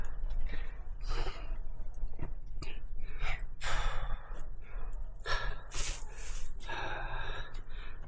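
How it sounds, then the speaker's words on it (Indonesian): A hiker climbing a steep slope on Mount Slamet draws long, deep breaths, a series of heavy, gasping inhales and exhales repeating roughly every second or so, close and audible over faint outdoor background. "Ini tarik napas panjang."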